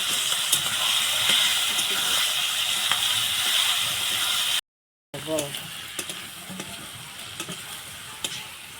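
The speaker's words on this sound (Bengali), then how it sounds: "তেলে চিংড়ি মাছ দিয়ে দিল" Shrimp frying in hot oil in a home kitchen for a green jackfruit and shrimp curry, giving a loud, steady close-up sizzle and hiss that cuts out briefly midway and then resumes.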